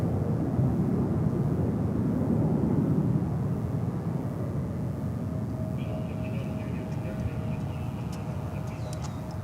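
A distant UPS cargo plane at DFW airport, a broad low jet rumble that slowly fades, with a thin steady whine and faint radio chatter.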